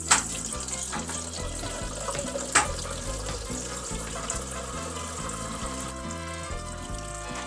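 Water strains from a chili flake mixture, a faint steady trickle and drip that runs throughout, with a couple of sharp clicks and faint rhythmic background music underneath.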